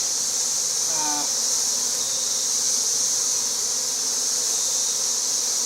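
A honey bee colony of roughly ten thousand bees is being moved to a new hive. It gives off a dense, unbroken high buzz that holds steady throughout, with a brief faint chirp early on and no speech.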